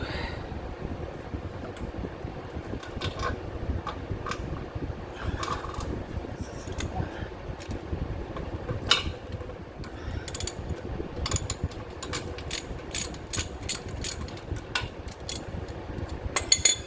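A hand ratchet clicks irregularly, starting bolts while a Kawasaki FX730V engine goes into a Z920m mower, with quick clicking runs and pauses over a steady low background rumble, close up and without talking.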